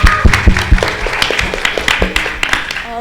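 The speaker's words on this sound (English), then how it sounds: "Can we get another round of applause for Kaveri?" Applause at an Indian classical dance arangetram in Charlotte, North Carolina: loud, close, uneven clapping with a few sharp individual claps standing out, a brief, lively burst that trails off.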